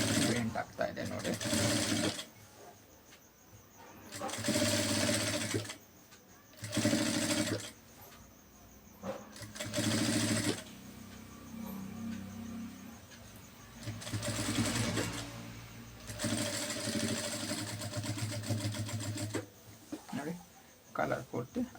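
A sewing machine stitching a shirt collar in repeated bursts of rapid mechanical whirring and needle clatter, separated by short pauses, close and clear, with a person talking between and over the runs.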